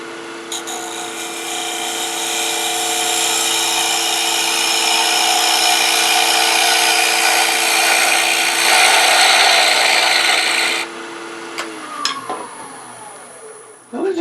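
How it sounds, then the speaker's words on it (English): A tool shear-scrapes a wooden ring bowl spinning on a wood lathe, a loud, sustained rasping hiss over the motor's steady hum that stops abruptly near the end. "Get rid of that sharp edge. Just a slight shear scrape."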